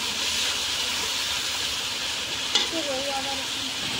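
Mutton spice masala of garlic and ginger paste sautéing in a pan gives a steady, loud hiss and sizzle with a brief clack partway through, and a faint voice murmuring underneath.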